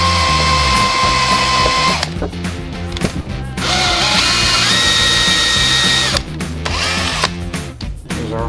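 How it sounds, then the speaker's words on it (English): A power drill whirs loudly and continuously while drilling a hole for a beetleweight combat robot's wedge, its pitch wavering as it bites into material, with brief pauses and changes in speed. "now that I got the drill bit starting to bite"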